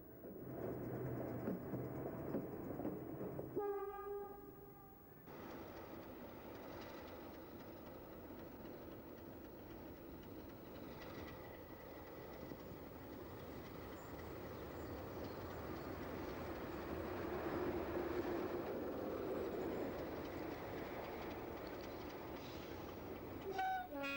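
An EM2 electric locomotive rumbles steadily nearby as it runs round its train at Retford, with a brief electric hum and tonal whine early on, then continuous rolling wheel noise that swells and eases.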